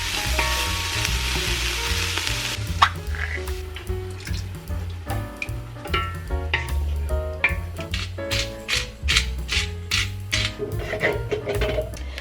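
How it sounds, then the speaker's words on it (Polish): Chopped onion frying in a pan, a steady close sizzle with bursts of stirring and tapping scrapes running throughout, loud and alone without talk. "smażam właśnie cebulkę."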